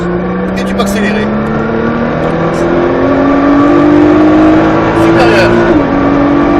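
A Nissan GT-R accelerates on a track, its engine note rising steadily in pitch through a gear before a brief dip at a shift, heard from inside the cabin with loud, close wind and road noise.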